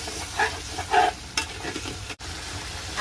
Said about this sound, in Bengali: ঢাকনাটা নেমে আবার নাড়াচাড়া দিয়ে দিচ্ছি।